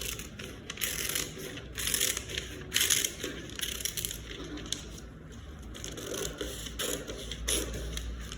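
Scissors cut through fabric for a bustier in a run of close, crisp crunching snips with irregular bursts and short pauses, and no one talks.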